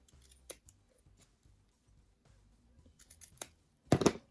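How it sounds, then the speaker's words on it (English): Scissors snip several times while trimming excess ribbon from a handmade hair bow, with a louder burst of close cutting near the end; soft handling noises fill the gaps, and nobody speaks. "So I'll just bring that round to the back and then trim off any excess"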